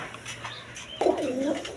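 A high-flying Giribaz pigeon gives one clear, rolling coo near at hand after a quiet start, with no talking over it.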